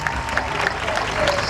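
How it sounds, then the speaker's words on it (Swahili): A school audience at a Kibasila education ceremony claps for its teachers: dense, steady applause that fills the whole stretch, with faint crowd voices mixed in. "wapigie makofi walimu wetu wa Kibasila."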